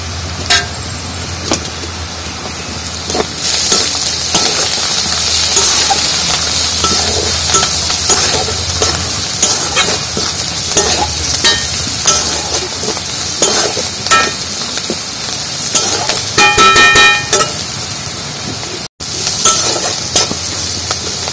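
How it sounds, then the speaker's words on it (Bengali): Onions sizzle loudly in a pan with turmeric and salt for a green banana kabab, a continuous frying hiss broken by frequent stirring scrapes and clatter, close and steady, with a brief cut near the end. "পেঁয়াজগুলো কিন্তু একটু লাল লাল করে ভাজা হয়ে গেছে"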